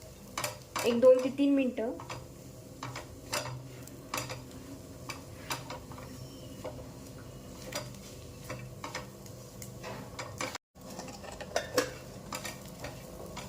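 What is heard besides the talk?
spice masala being sautéed with onions in oil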